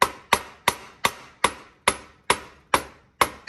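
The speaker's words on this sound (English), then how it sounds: "you want to take your hammer and flatten out the wire" A hammer flattens wire for a half-moon solder pendant, striking in ten sharp, evenly spaced blows that ring briefly and decay, close and loud with no talk.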